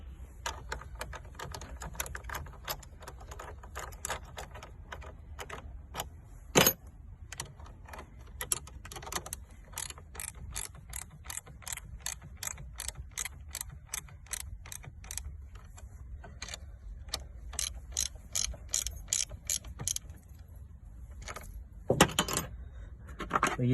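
A terminal nut on an Opel Zafira car battery is tightened lightly, giving sparse, sharp metallic clicks that come in irregular clusters over a quiet background.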